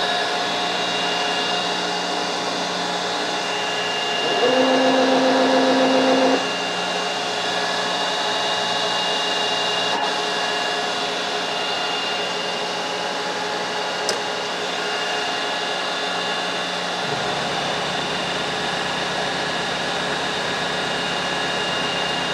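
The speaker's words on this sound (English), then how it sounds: "Could speed up that spindle a little bit, but looks pretty good." A machine tool spindle runs and cuts metal with a constant mechanical whir. A brief higher whine rises partway through, and the low rumble drops off near the end.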